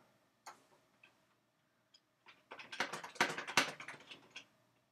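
Someone types a caption on a computer keyboard nearby: a few isolated key clicks, then a quick burst of rapid tapping that fades out, quiet and close with no voices.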